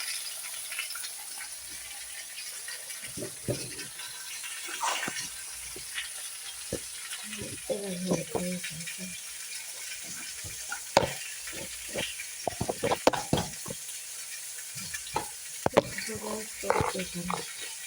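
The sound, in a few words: garlic, whole chilies and tomato sizzling in the pan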